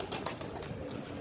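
A flock of pigeons coos in a loft, soft overlapping calls repeating steadily and fairly close, with no talking.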